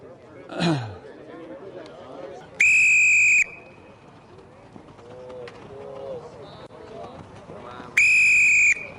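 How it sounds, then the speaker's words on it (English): At a hurling coaching workshop, a referee-style whistle gives two loud, shrill blasts several seconds apart, with voices and general activity between them. "I'm going to blow the whistle in 10 seconds."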